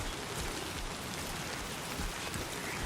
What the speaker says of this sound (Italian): Quando piove tantissimo, giustamente, così come in natura